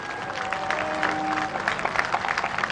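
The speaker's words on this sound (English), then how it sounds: "let's give a very big round of applause as we welcome our final group onto the green" A golf gallery at a women's professional championship applauds as the final group walks onto the green, steady clapping from a spread-out outdoor crowd.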